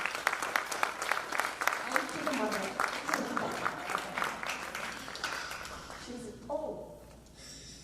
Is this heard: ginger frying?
no